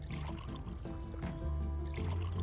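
Liquid poured into a container while brewing beer in a video game, a soft, quiet trickle and splash that swells partway through with faint tonal hum from the game underneath.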